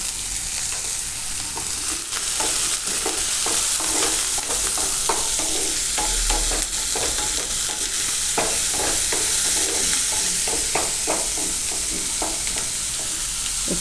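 Capsicum cooks in a hot pan for a paneer tikka sandwich, giving a continuous loud sizzle broken by frequent scraping stir strokes, close up with no talk.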